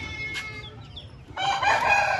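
An Aseel rooster crows close by, a faint early call followed by a louder, sustained harmonic crow in the second half, with light background noise and no talking.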